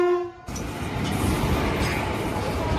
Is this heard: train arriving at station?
yes